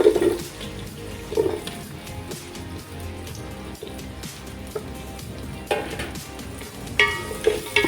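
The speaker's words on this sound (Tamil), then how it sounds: "இப்போ பெரிய வெங்காயம் சேர்த்திக்கலாம்." Big onions frying in spiced oil for a country-chicken seeraga samba biryani, a continuous close crackling sizzle with occasional louder spatters and stirring clinks, no voices.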